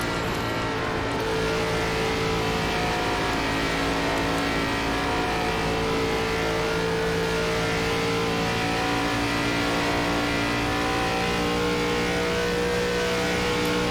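Simulated ARCA stock car engine at Texas in iRacing, a loud steady drone held near full throttle, with a slight lift in pitch early and a constant rumble throughout.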